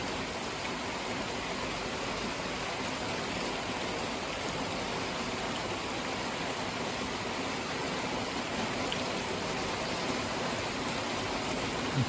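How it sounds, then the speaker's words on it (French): A heavy evening shower pours without a break in late September, its thick, even roar of rain striking surfaces close by holding constant for twelve seconds with no talking. "Il pleut tous les jours, là c'est impressionnant."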